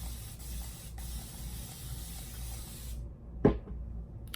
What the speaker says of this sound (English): I start with this water bottle and just spray it till it's like really damp.